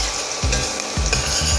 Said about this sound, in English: Keep frying till it becomes a little translucent.